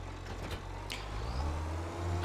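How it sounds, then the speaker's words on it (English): A tractor engine in Farming Simulator 25 runs at a steady low drone, with a brief swell of revving midway, moderately loud and without any talk. "Let's hop back in this tractor."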